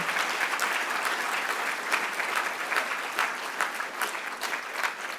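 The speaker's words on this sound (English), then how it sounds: "Big round of applause for everybody" Steady, dense applause from an awards-ceremony audience celebrating recipients and nominees at a cultural diversity awards event, continuous and even with no voices rising above it.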